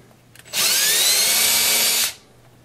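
Close, loud power drill boring a hole while installing a guitar neck, one steady whine of about a second and a half that starts and stops abruptly, with no talk over it.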